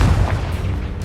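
A Confringo spell explosion in Hogwarts Legacy, a single loud, deep boom that hits at the start and rumbles off over a second, with no voices.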